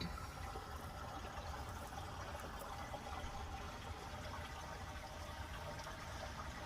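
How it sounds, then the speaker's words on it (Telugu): Spring water runs steadily from under a rock with a continuous gurgling rush, close by and unbroken, with no voices over it. "ఇక్కడ ఒక రాయి కింద నుంచి ఫ్రెష్ వాటర్ రావడాన్ని మనం గమనించవచ్చు"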